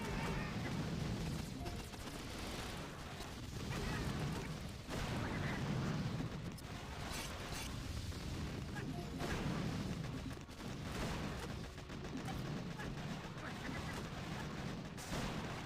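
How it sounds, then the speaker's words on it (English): Rocket launcher fire hitting troops in the mobile strategy game Boom Beach, a steady stream of heavy booming blasts and crackling gunfire under a dense battle din, with a voice talking over parts of it. "That rocket launcher is targeting my troops."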